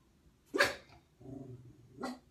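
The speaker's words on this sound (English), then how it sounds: "sorry, that's my dog." A pet dog barks indoors, two sharp barks about a second and a half apart, close and fairly loud, with a low rumbling growl or murmur between them.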